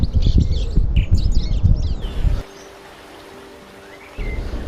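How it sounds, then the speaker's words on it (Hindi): Several birds chirp and tweet in quick bursts over a low rushing background of flowing water and wind in Balgaon near Dharamshala, then the calls fade and a quieter stretch follows before the rush returns. "जो आवाज़ें सुनाई देती है वो है पक्षियों की आवाज़ें।"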